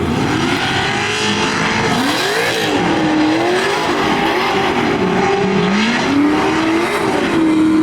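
A race car drifts with its rear tire swinging out, the engine note climbing and dipping in sweeping pitch bends over continuous loud tire scrub, close and intense throughout.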